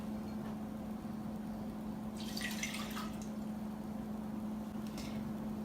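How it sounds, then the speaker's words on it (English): Water and rice poured together into a saucepan on the stove while making onigiri: a short splashy pour midway and a fainter trickle near the end, over a steady low electrical hum, with no talking. "Then combine your rice and your water in your saucepan on the stove."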